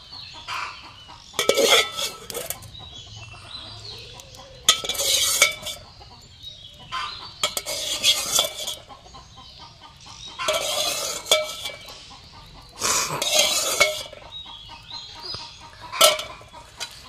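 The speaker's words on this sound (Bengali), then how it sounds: "দিয়ে দিচ্ছি একটু সরিষার তেল, মেখে নিই।" Boiled cauliflower being mixed by hand with mustard oil in a metal bowl for a mash, bursts of squelching, clinking and scraping that come and go in several rounds, close by, with quiet gaps between them.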